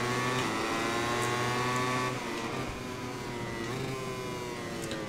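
Engine of a KTM MotoGP bike in MotoGP 21 held at a steady high-revving drone, pitch dipping slightly around a corner before climbing again, loud and continuous with no talking.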